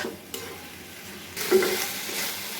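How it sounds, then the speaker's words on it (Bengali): Meat and onions stir-fry in a pan, with soft sizzling and a few spoon-stirring scrapes, and a brief louder burst of frying partway through. "আমি পেঁয়াজের সাথে এটাকে পুরা মিশিয়ে নিব, মিশিয়ে ভালো করে ভাজবো"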